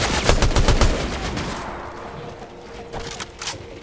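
Gunfire in the Fortnite video game: a rapid burst of loud, close automatic shots for the first second and a half, fading into a reverberant tail with a few fainter shots near the end.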